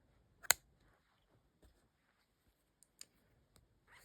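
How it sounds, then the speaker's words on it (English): Scissors snipping yarn, one sharp close snip followed by a few faint clicks and small handling noises in a quiet room. "So now you can just cut your yarn"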